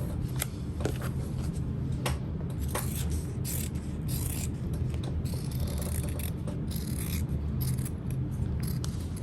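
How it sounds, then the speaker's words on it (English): Scissors trim excess lining fabric for a backpack, giving a steady run of small snipping clicks and rustling cloth over a constant close background, with no talking. "I'm just gonna trim off the excess lining fabric"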